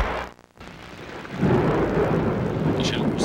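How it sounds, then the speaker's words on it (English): Steady rain with rumbling thunder: a brief dip to near silence, then a dense, loud wash of rain and low rolling rumble that continues to the end, with faint higher crackles near the close. "Man, I can't deal with this rain anymore."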